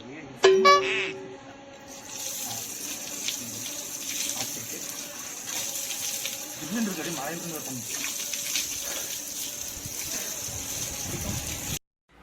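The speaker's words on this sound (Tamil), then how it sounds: "இந்த தண்ணி பார்த்தீங்கன்னா மலையிலேருந்து வரக்கூடிய தண்ணி அவ்வளோ அருமையாக குளிர்ச்சியாக இருந்தது" Cold water flowing down from a mountain at the Marudhamalai Murugan temple, running in a steady gush like an open tap. A clang sounds early on, and voices talk over the flow for much of the clip.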